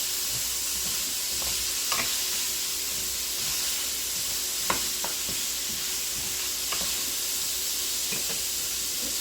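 Chopped onions, green peppers, carrots and celery sweat in a pan with a steady, gentle sizzling hiss, broken by a few faint taps and stirs, alone without talk.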